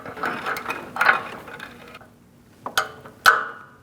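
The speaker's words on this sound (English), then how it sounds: "we're going to torque it to 31 foot-pounds if you can get a torque wrench in there" A ratchet wrench tightens a downstream oxygen sensor on a Chevrolet Colorado, a close-up run of quick clicking pawl bursts followed by a pause and a couple of sharp isolated clicks.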